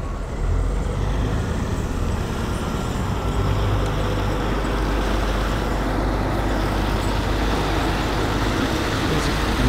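A truck towing a loaded stock trailer rumbles past on a small-town street in Twin Bridges, Montana, a steady, loud, close roadway roar filling the whole stretch with no voices.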